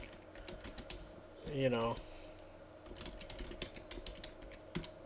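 Typing on a computer keyboard to enter an email address into a Linux terminal address-book program: close, irregular keystroke clicks with a brief burst of someone talking partway through.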